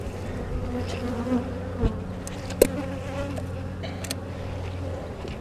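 Honeybees buzz steadily around an open hive during an inspection, a continuous close drone with a few louder passes near the microphone and a couple of soft knocks.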